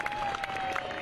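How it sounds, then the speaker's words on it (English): Brief burst of crowd clapping and cheering at an outdoor air show honoring aerobatic pilot Sean D. Tucker, a dense, moderately loud wash with a faint steady tone running underneath. "Ladies and gentlemen, a great round of applause to Sean D. Tucker."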